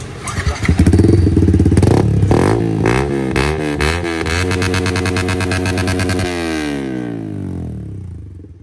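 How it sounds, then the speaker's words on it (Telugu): A motorcycle starts and revs hard, its loud, raspy exhaust barking through several throttle blips before settling and fading toward idle. "నేను ఎక్స్పెక్ట్ చేయలేదు ఇంత లౌడ్ ఉంటుంది అనేది బల్లే ఉంది ఎగ్జాస్ట్ అయితే"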